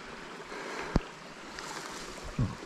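A mountain bike splashes through a shallow river during the Desafío BTT Las Brañas y El Mar ride near Luarca, with steady rushing water and a couple of brief sharp splashes or knocks.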